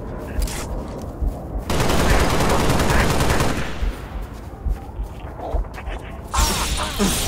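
Gunfire rattles through a Halo Reach battle, with sustained bursts of automatic fire layered with sharp cracks and impacts, loud and dense for several seconds before thinning into scattered shots and a final flurry.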